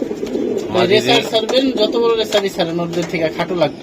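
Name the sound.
pigeons cooing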